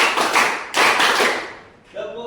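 Several people clap in unison for an ice-breaking routine, a handful of close, loud group claps with ragged overlap, followed by a brief spoken voice at the end.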